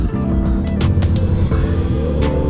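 Suzuki GSX-S1000GT motorcycle fitted with a VMAX V10 titanium exhaust, idling or revving gently with a loud, steady, deep engine rumble throughout, close by and continuous with slight pulses.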